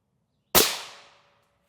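A single loud rifle shot at a Level III+ body armor test: one sharp, close crack that rings out and fades over about half a second against a quiet background.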